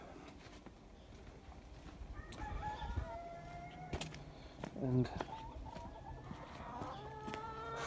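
Backyard chickens, including young birds kept apart from the older flock, cluck in short bursts near and far while a rooster crows, with brief talk over the top.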